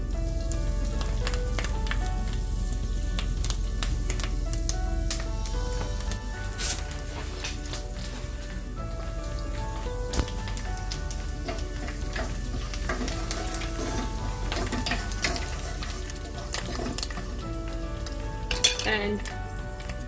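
Curry leaves hit warm oil in a pan and sizzle loudly, a dense continuous frying crackle close by, with occasional clinks and scrapes of a utensil stirring against the pan.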